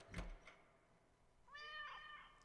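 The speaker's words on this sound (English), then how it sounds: "greeted by a passionate meow" A house cat lets out one drawn-out, eager meow indoors, close and clear, preceded by a brief thump and no talking.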